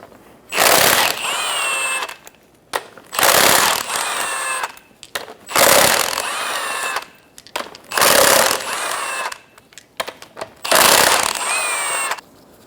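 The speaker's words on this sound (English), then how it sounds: "Using a 19mm socket, remove the 5 lug nuts." A power tool with a 19mm socket spins lug nuts off a 2003-2007 Honda Accord wheel in five loud bursts of whirring and ratcheting, each separated by brief pauses.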